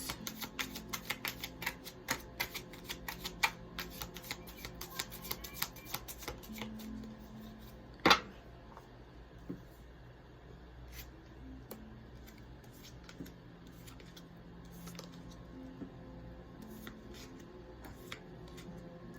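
Modern Witch Tarot cards shuffled and drawn one by one in a quiet room, with a steady run of soft flicks and slaps, busier early, one sharper snap near the middle, then lighter handling with no talking.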